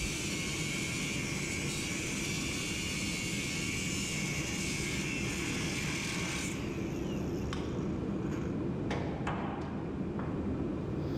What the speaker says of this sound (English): Took me a few minutes to do that with the grinder